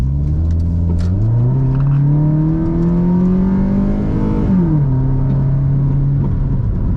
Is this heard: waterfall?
no